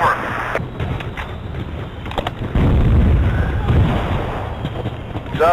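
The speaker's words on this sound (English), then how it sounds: "Requesting a barrage" Artillery barrage in Battlefield 2, a war video game: loud, dense booming blasts rolling continuously with rumbling impacts, heaviest in the second half, with radio voices over the top.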